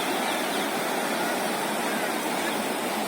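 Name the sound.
river water flowing over a dam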